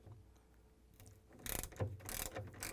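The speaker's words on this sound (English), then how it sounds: "we're going to use these 5/16 socket wrench, and I'm going to take out this screw" A 5/16-inch socket wrench ratchets out a screw on a Whirlpool, KitchenAid or Maytag refrigerator fresh food door, with quiet handling first and then close, repeated bursts of clicking pawl strokes.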